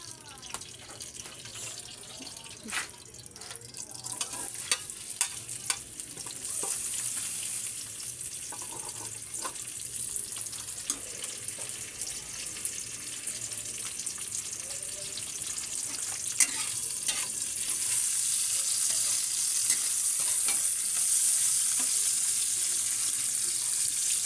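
Eggs and tomatoes sauté in a pan with a steady, close sizzling hiss that grows louder over time, mixed with occasional clicks and stirring scrapes; no voices are heard.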